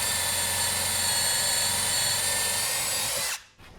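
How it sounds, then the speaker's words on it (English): Drilling pocket holes with a pocket hole jig, a loud continuous high-pitched whine from the power drill running at steady speed, close up, then cutting off sharply near the end. "now we're just going to drill holes there"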